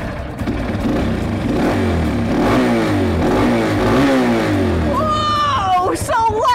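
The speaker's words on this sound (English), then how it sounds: "When you turn this, this is what provides all the power to the engine" A motorcycle engine revs as the throttle is twisted, climbing and falling in pitch with loud, close repeated surges, followed by a person speaking over the idling engine near the end.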